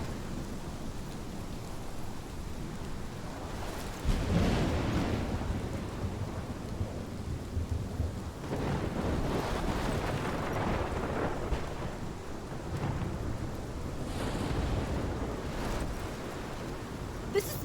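A thunderstorm rages in Life is Strange Remastered on PS5: a steady roar of heavy rain and wind, with deep thunder rumbles swelling around four, nine and fourteen seconds. No voices.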